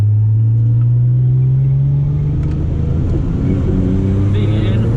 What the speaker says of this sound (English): feeding in the accelerator through the left